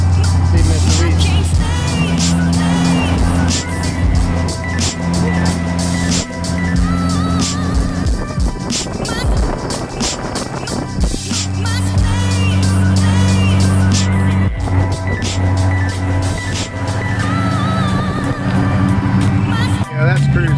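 Cars rumble past with steady engine noise during a cruise week car gathering, a Chevelle among them. The engines stay close and fairly loud throughout, and people talk over them.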